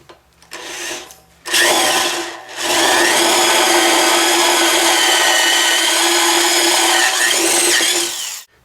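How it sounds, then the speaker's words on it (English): A loud heavy-duty corded drill whines steadily and grinds into steel after a short start-up burst, running continuously for several seconds. "that's why I'm using this heavy-duty corded drill"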